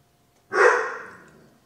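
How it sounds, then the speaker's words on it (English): A dog gives one short, breathy bark or huff, sudden and close, fading quickly into quiet in a home kitchen. "There's my dog barking."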